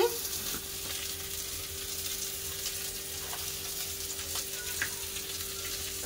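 Vegetables, including pointed gourd, frying in oil in a home kitchen pan, a steady close sizzle with occasional pops and faint stirring, no talking.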